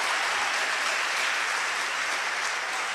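A church congregation claps in a steady, continuous roar of applause with no voices heard over it, loud and sustained throughout.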